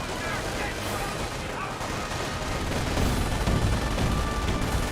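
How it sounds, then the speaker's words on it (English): A sniper rifle fires in the Company of Heroes strategy game amid a dense, continuous wash of battle noise, with gunfire crackles and rumbling blasts layered loudly over one another without clear gaps. "sniper firing away, now versus C2."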